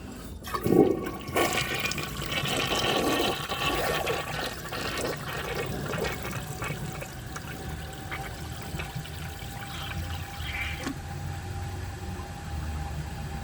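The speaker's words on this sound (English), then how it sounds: "I'm gonna give it another full flush again" A 1981 Briggs Conserver concealed-jet toilet runs a full flush, with a sharp start followed by a steady rushing and trickling of water that continues for several seconds alone.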